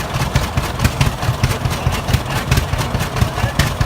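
A stationary engine built into a traction machine runs at a parade, chugging in a steady rhythmic pulse of low thumps, fairly close and loud.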